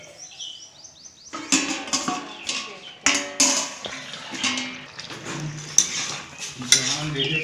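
Ridge gourd curry with a little water is stirred in a pan, a spoon scraping and clinking repeatedly against the metal in an uneven rhythm, close by, with a soft wet bubbling underneath.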